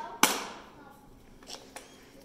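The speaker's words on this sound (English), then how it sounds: "I'll finish driving the nail." A farrier hammers a horseshoe nail into a horse's hoof wall, one sharp near strike followed by two lighter taps, with no talk.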